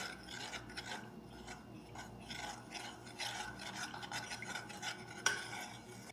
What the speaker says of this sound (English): And then you want to mix it in really well.